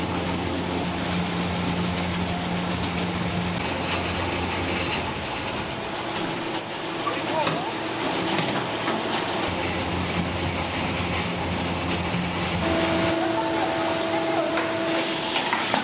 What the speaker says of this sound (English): Using a huge spinning machine, these vegetables are washed thoroughly.